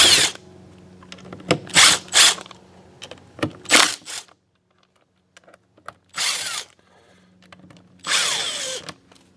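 A power driver whirs in short bursts, backing T25 Torx screws out of a 2004 Porsche Boxster convertible top transmission, loud and close with quiet gaps and small clicks between runs.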